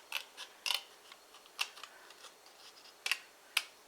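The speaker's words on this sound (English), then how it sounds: "So we cut that score line away." Card stock being cut by hand with scissors along a score line: a few sharp, isolated snips spaced apart, close and clear over a quiet background.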